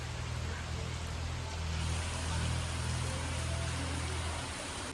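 Steady monsoon rain pours continuously as an even hiss with a low rumble beneath, moderately quiet and unbroken throughout, with no voices.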